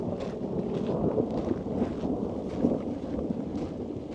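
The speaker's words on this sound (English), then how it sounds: "thunder's cool though" Deep rumbling thunder rolls through a rainstorm at a backcountry lake, a low continuous growl with soft rain and light wind noise on the microphone, fairly close and steady throughout.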